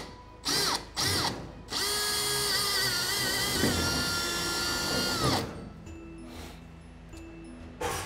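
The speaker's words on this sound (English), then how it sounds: "then drill your pilot hole through there" Power drill boring a pilot hole through a panel on an H1 trailer build, two short bursts and then a sustained loud whine for several seconds before stopping.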